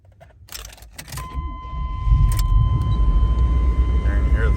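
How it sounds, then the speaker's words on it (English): A 1992 Chevrolet Blazer is started with a key. A chime and a brief starter crank lead into the engine catching and settling into a loud, steady idle rumble close by. "We're going to start up our 92 Chevy Blazer here."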